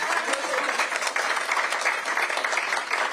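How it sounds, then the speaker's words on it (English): Audience at a North End Community Center announcement applauding steadily, a dense even wash of many hands clapping, moderately loud and continuous with no voices over it. "Yes, clap."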